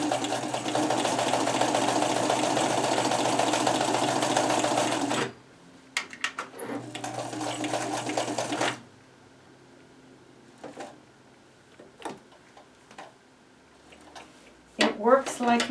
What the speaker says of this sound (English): This is a white sewing machine with an old-fashioned